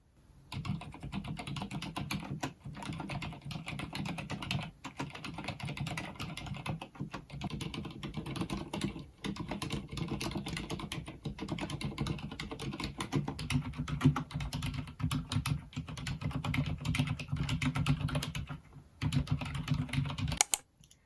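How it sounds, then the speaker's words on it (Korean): Soft, muted keystrokes on a quiet Leopold MP900R BT mechanical keyboard with silent red switches, typed in a steady continuous flurry for about twenty seconds, close up with no voices. "레오폴드 MP900R BT 저소음 저축 모델입니다. 키보드 소개하기 전에 먼저 타건 소리 들려드리도록 하겠습니다"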